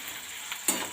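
A chopped ingredient fries in a pan for Bengali chickpea ghugni: a soft steady sizzle, close and faint, brightening suddenly near the end as if stirred or something is added.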